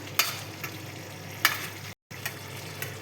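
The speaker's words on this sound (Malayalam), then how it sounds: "നല്ലൊന്ന് തിളച്ചോട്ടെ, എന്നിട്ട് നമുക്ക് ഓഫാക്കാം കേട്ടോ" Mango flowers, drumstick flowers and black pepper boiling in a pan on a gas stove, giving a steady low bubbling hiss with a few soft pops and splutters, fairly quiet and steady.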